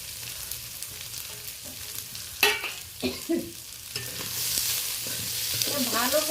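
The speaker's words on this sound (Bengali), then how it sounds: "পেঁয়াজ কাঁচা লঙ্কা রসুন ফোড়নের সাথে ভালো করে নেড়ে নিচ্ছি।" Onion, green chilli and garlic being stir-fried in a tempering of spices, a close sizzle with several scraping stirs of a spatula against the pan and a hiss that grows louder toward the end.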